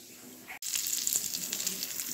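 Spices sizzle loudly as Bengali panch phoron, green chilli and a little turmeric hit hot oil in a pressure cooker for dal, a short crackle starting abruptly and then holding as a steady close hiss.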